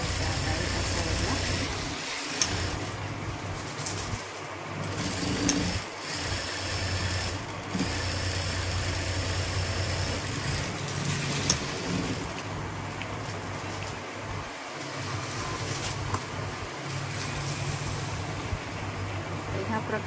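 A sewing machine stitches the seams of a blouse during fitting, a continuous close mechanical hum with brief pauses and restarts, while someone talks over it.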